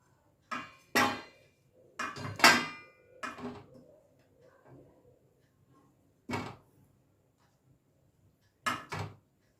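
Fried chicken moved out of a pan in a home kitchen while making Kerala-style tomato chicken, with loud, separate clanks and scrapes of pans and utensils in bursts and longer quiet gaps between them.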